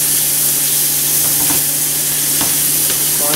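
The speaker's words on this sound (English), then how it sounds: "Just going to let this turkey heat up here in the pan." Turkey warms in butter in a frying pan, giving a steady loud sizzle and hiss with a few soft scrapes of stirring, and no talk.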